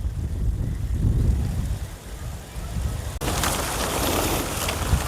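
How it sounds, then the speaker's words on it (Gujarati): Light drizzling rain falls over a windy farm plot of groundnut, banana and drumstick trees: gusty low wind rumble at first, then a steady, close, broadband hiss of fine rain. "ઝરમર ઝરમર વરસાદ છે ચાલુ જ છે"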